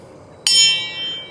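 A single bright bell ding strikes sharply and rings on with a slowly fading metallic tone, heard alone over a faint background hiss.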